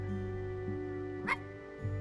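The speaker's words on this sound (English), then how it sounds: "Bark." A single short dog bark from the video game I Am Dead, heard faintly over a steady hum of game music.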